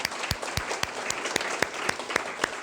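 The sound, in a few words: applause for the library staff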